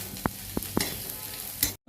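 Tarka spice masala cooking in a pan, a soft steady sizzle punctuated by a few distinct utensil taps and scrapes, ending abruptly.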